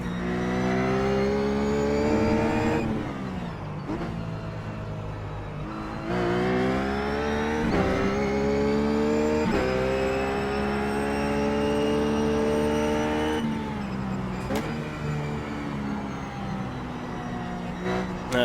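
A Ruf GT3 race car engine howls through a lap of Sonoma in the iRacing simulator, revving high and steadily with repeated upshifts and brief dips under braking, loud and continuous with no talking.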